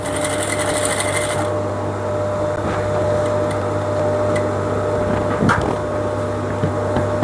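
A sewing machine stitches fabric on a garment body with a steady, close mechanical whir that runs continuously, broken by a few small clicks and knocks.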